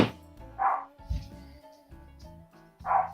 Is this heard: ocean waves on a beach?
no